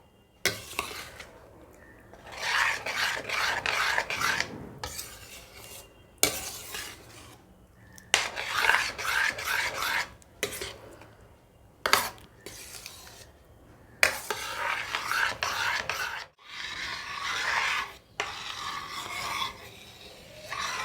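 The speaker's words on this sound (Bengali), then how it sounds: "এবার আমি পুরো পায়েসটা মধ্যে মিশিয়ে দেবো" Liquid jaggery is stirred into milk payesh in a pot, with bursts of close, rasping scrapes against the metal that stop and start again after short pauses.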